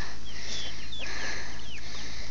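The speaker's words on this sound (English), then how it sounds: "He caught the chicken now." Chicken clucking and squawking outdoors after being caught during a chase, with a few high, bursting calls over steady broadband rustle and background noise.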